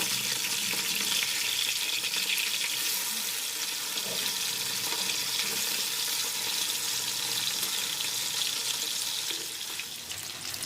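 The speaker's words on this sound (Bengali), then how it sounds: "মাছগুলোকে আমি হাই হিটে লালচে করে ভেজে নেব।" Bhetki fish frying on high heat in a pan, making a dense, continuous hissing sizzle that stays loud and even throughout and eases slightly at the end, with no voices.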